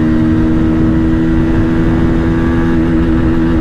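A 2023 Bajaj Pulsar 150 motorcycle engine cruising in third gear at about 80 km/h, a loud, steady droning hum with constant pitch and wind noise, heard close up without talk.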